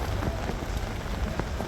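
Rain patters steadily on an umbrella during a walk in Montenegro, a dense close hiss with scattered louder drops at an even level throughout, and no one speaking.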